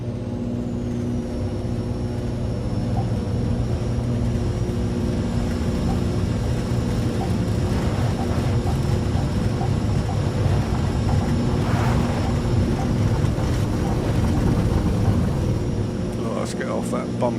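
Aircraft engine roaring steadily as a plane takes off down a bumpy runway in the X-Plane 11 flight simulator, a continuous loud drone with rumble and light rattles throughout.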